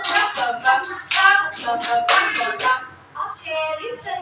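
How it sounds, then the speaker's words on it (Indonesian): A class performs a rhythmic focus clap routine, bursts of patterned hand claps in steady sequence alongside children's chanting voices, close and fairly loud. "Tepuk fokus."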